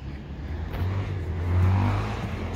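A homemade motorized fat tire bicycle runs with a steady low engine drone that swells slightly toward the middle, close and alone.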